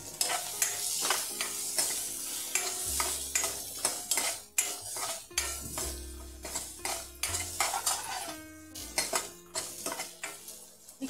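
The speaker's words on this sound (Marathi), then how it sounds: "ही कांदा चांगला भाजून घ्यायचा बरं का" Onion roasting in a pan with asafoetida and chilli, stirred with a metal spoon: a bright sizzle under repeated clinks and scrapes against the pan in an irregular rhythm, close and fairly loud.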